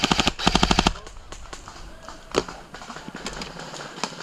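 An airsoft gun fires a rapid burst of sharp, close shots during an outdoor team game, followed by scattered single pops and distant shots amid background movement.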